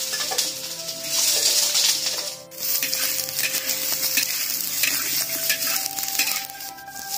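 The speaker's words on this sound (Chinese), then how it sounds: "这鸭肉一定要在里边炒得干干的" Duck meat stir-fries in lard in a wok for beer duck, a loud close sizzle with scraping and clinks of a spatula stirring, briefly dipping before rising again.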